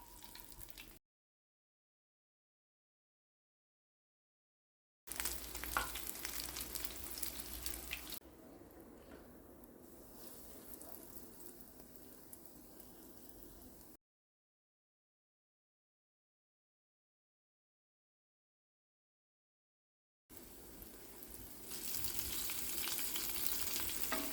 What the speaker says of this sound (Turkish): Pembeleşene kadar bir tarafını sonra diğer tarafını çevirip kızartıyorum.